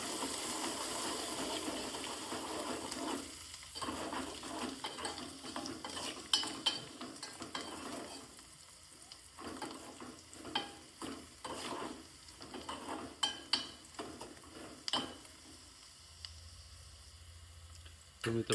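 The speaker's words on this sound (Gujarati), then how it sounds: "હવે આપણે એમાં કોથમીર એડ કરી દઈશું અને સારી રીતે મિક્સ કરવાના રહેશે." A spoon stirs fried green chillies and fresh coriander around a pan, scraping and clinking in quick bursts over a steady low sizzle. The scraping runs throughout with irregular pauses, close up, and no one speaks.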